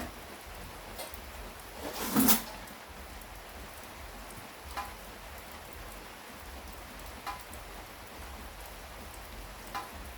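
Steady rain falls outside, heard from indoors in a kitchen as an even, soft hiss with a few faint drips and one brief louder burst of noise near the start.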